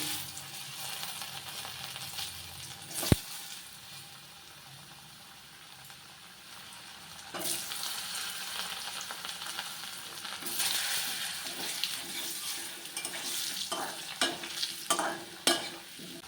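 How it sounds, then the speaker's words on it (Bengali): Potato pieces sizzle steadily in hot oil in a pan where katla fish was just fried, with a sharp knock near the start and louder bursts of frying and stirring scrapes later on. "এখন এর মধ্যে আলু ভেজে নেব"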